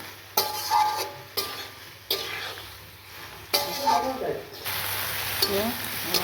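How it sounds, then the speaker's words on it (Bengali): A spatula scrapes and stirs fried cauliflower in a hot pan in several bursts, with a soft sizzle of frying throughout. "এবারে ভালো করে কষাকষি করতে হবে"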